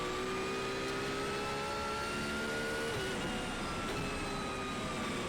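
Porsche GT3 engine revving in the iRacing sim during a rainy race, a steady loud mid-pitched engine drone with rising and falling rev tones, one shift dip partway through, no voices.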